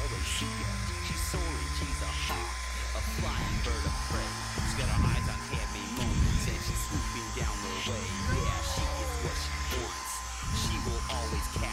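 A hair dryer blows continuously and loudly throughout, its steady roar running under music with occasional shifts in pitch as it is moved.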